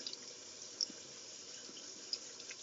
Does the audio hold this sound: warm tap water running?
yes